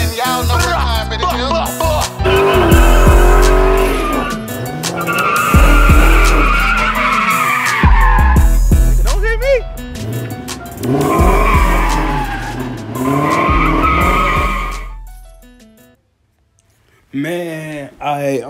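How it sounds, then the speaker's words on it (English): A car does a burnout, its tires squealing and skidding in long screeching bursts over the revving engine. The sound is loud and close, with several surges, and it cuts out briefly near the end before resuming. "This man's just burning out."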